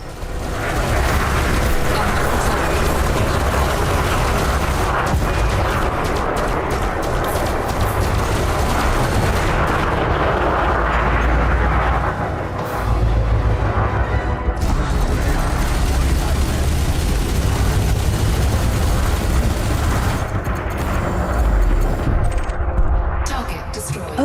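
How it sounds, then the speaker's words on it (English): A Corvette's beam laser in Elite Dangerous: Odyssey fires in a loud, continuous roaring blast sustained for over twenty seconds, with brief dips, under ongoing combat noise and occasional talk. "Perhaps our beam laser will help them reconsider their life choices."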